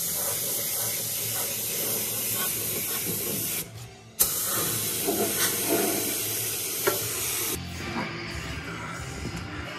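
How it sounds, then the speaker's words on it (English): Epoxy primer is spray painted onto a car body, a continuous airy hiss from the spray gun with a brief pause midway and short breaks between passes. "now we're gonna paint epoxy and a little bit filler"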